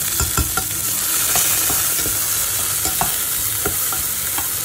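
Frozen vegetables hit hot oil with tempered spices in a pan, producing a loud, continuous close-up sizzle dotted with crackling pops.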